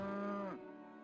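A single drawn-out cow moo from the Settlement Survival video game, loud and close, trailing off near the end.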